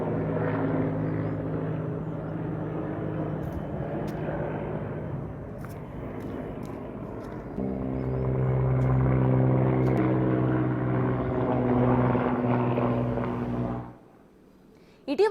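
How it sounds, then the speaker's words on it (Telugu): An army Mi-17 helicopter hovers to airlift a crashed helicopter slung on a rope at Kedarnath, giving a loud, continuous rotor and turbine roar that swells midway and cuts off near the end. "క్రాస్ అయిన హెలికాప్టర్ను తాడు కట్టి సైన్యం Mi-17 చాపర్తో తరలించేందుకు ప్రయత్నించారు."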